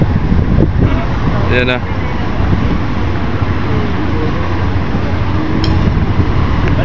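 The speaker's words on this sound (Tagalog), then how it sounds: "Lakas pa ng hangin." Strong wind roars steadily across an open boat deck, a dense broadband rush that stays loud throughout, with a few brief voices calling out over it.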